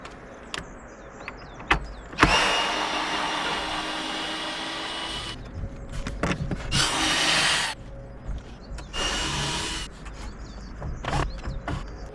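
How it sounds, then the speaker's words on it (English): Screws being backed out of wooden flower boxes fastened to support brackets, with a sustained drill whir in several bursts between scattered clicks and knocks, nearby and fairly loud. "In order to remove the boxes, I'll take out the 2 screws holding each box onto the support structure underneath."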